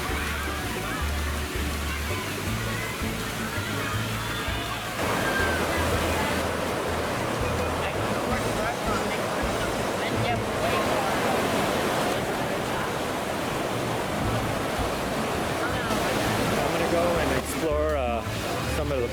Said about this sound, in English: we're walking through Rapids Waterpark right now